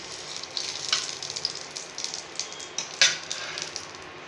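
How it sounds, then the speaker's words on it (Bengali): Three dried red chillies fry in mustard oil in a kadai, a steady close hiss of sizzling broken by sharper crackles and spits, two of them louder near the start and the middle. "দিয়ে দেবো 3টে শুকনো লঙ্কা। লঙ্কাটা লাল লাল করে ভাজবো।"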